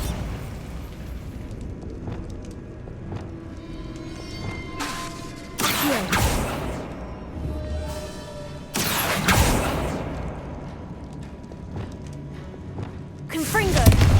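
Bombarda spell blasts in Hogwarts Legacy gameplay: several sharp explosive bursts land a few seconds apart, each a loud broadband boom with a decaying rumble, over a bed of game noise.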